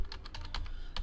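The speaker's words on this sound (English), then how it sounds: "Maybe I typed the numbers wrong." Numbers typed on a computer keyboard: a quick run of light, close key clicks in an uneven rhythm over a low steady hum.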